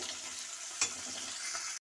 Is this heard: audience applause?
no